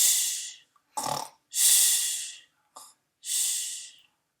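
A voice imitates a sleeping bear's snoring for a read-aloud story: three long, breathy, hissing exhales alternate with short snorting inhales in a slow, steady rhythm, close and alone.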